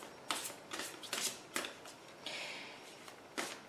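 Tarot cards being shuffled by hand before a reading, a run of soft riffling bursts with short pauses between them, close and fairly quiet with no talking.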